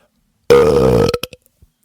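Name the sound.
wet belch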